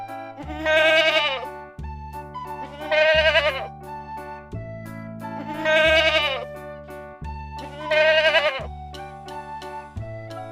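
A goat kid bleats four times, long wavering cries spaced about two seconds apart, loud and clear over a steady musical backing from a children's alphabet song.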